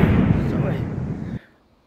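An explosion sound effect, a loud dense roaring burst that holds steady for over a second and then cuts off abruptly into near silence.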